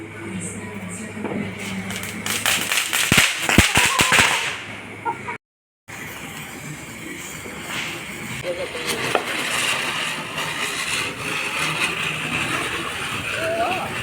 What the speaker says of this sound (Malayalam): ഗുണ്ടൊക്കെ ഉണ്ടായിരുന്നു, അങ്ങനെ കുറേ ക്രാക്കേഴ്സൊക്കെ പൊട്ടിച്ച്